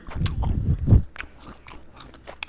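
Chewy Thai fish balls bitten and chewed up close, a dense burst of wet crunching and mastication for about a second, then softer scattered chewing clicks.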